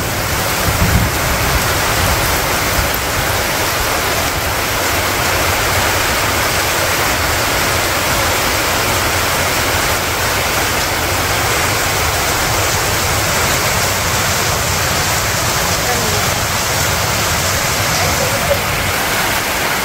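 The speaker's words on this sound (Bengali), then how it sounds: "কি সুন্দর বৃষ্টি" Heavy rain pours down steadily and loudly, a dense continuous wash of falling water that fills the whole scene without pause.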